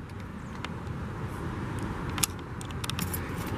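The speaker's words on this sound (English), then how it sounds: "Insert the key, foot on the brake, and press" Keys for a Volvo jangle in bursts of light metallic clinks over a steady low rumble of car and road noise, with a sharper clink near the middle.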